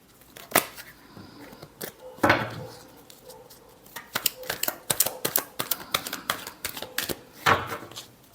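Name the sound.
shuffling tarot cards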